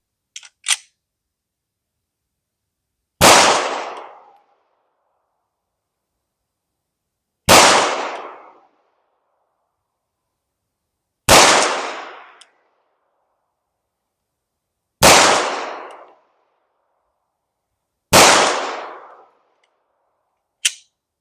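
Glock 19 pistol fitted with a threaded spiral-fluted barrel, fired over a chronograph: five loud, sharp single shots spaced a few seconds apart, each with a short decaying echo, plus a couple of faint clicks at the start and no talking.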